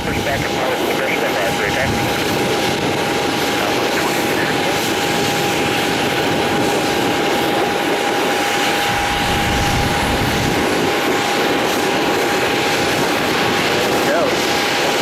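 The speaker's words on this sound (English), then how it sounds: "Both of our 737 MAX 8s are about ready to depart." Boeing 737 MAX 8 jets idling before departure at an airport, a continuous loud engine roar with a steady high whine, heard from a distance throughout.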